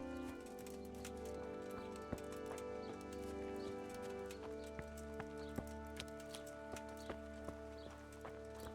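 Horse hooves clip-clopping steadily in the Kingdom Come Deliverance video game, an even walking rhythm of soft thuds over a sustained tonal music bed, no talk.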